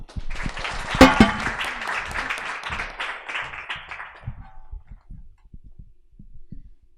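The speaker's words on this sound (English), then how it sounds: "Please give a round of applause." An audience applauds as the first speaker in a debate on sex before marriage takes the stage, a dense round of clapping that fades out after about four seconds, leaving a few scattered thumps and quiet footsteps.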